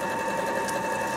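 A Bernette B37 sewing machine runs on its own at a steady, fast, even stitching whir with no foot control, close and loud, with no voices.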